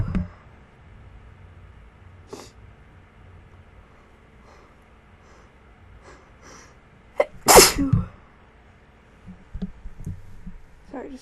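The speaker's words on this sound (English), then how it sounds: "I've been really needing to sneeze all day," One sharp, loud sneeze bursts out at close range partway through an otherwise quiet indoor stretch, followed by faint rustling.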